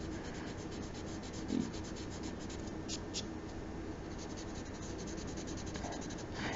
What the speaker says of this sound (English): I could try to erase it out. You want to have a good quality eraser if you do.